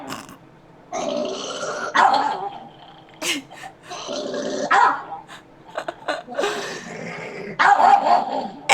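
A dog makes low, rough growling and grumbling sounds in several bursts, heard close up and mixed with intermittent human talk and laughter.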